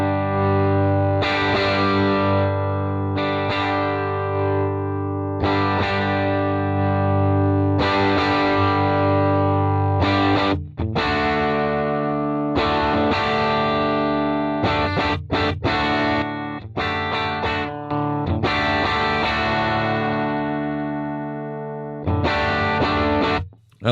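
An electric guitar driven through an overdrive pedal with a compressor's limiting turned all the way up, giving thick, sustained, heavily squashed chords with distortion and chorus shimmer; loud and close, played alone in long held phrases broken by short pauses.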